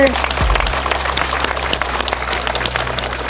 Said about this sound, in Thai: ปรบมือหน่อย